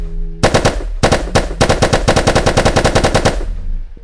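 Rapid automatic gunfire from a rifle in a VR active ragdoll physics game, a short burst then a long sustained string of loud, evenly spaced shots, close and alone without talk.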